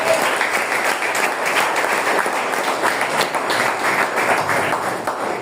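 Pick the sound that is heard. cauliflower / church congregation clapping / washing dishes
church congregation clapping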